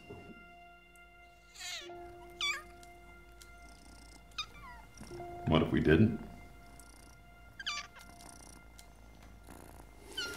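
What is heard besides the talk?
kittens meowing and purring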